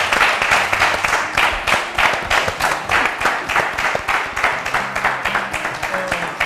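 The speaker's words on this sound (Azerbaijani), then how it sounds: "Alqışlayaq" A live studio audience applauds in a rhythmic, pulsing clap that beats steadily together at a brisk tempo, with a few voices speaking faintly underneath.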